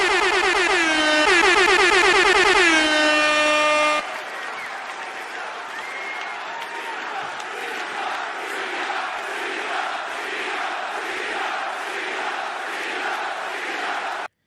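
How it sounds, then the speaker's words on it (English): Blaring air horns sound in loud bursts for a few seconds, then give way to a roaring, cheering crowd. "Air horns for the GOAT!"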